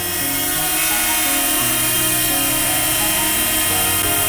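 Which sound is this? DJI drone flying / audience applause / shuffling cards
DJI drone flying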